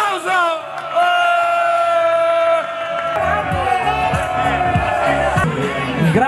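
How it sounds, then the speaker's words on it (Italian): A crowd at an Inter football event cheers, whoops and shouts in a loud, sustained roar. The noise swells and carries through the whole stretch, with voices bellowing over a steady background hubbub. "applauso!"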